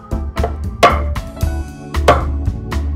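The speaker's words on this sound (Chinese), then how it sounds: "然后把鱼肉剁成小片。" Knife blade chopping raw salmon into small pieces on a cutting board, about eight sharp thuds at an uneven rhythm, close and clear with no talking.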